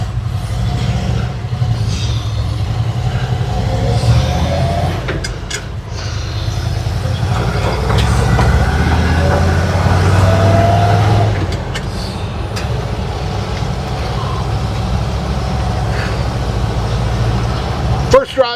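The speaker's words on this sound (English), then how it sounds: "First drive in the truck." Truck engine droning steadily on a first drive, a low continuous hum with shifting load heard from inside the cab, while people talk intermittently over it.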